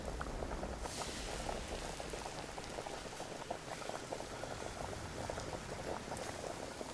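Sizzling, bubbling cooking noise from a video game, a continuous even boil with dense popping, fairly quiet and steady throughout with no voices over it.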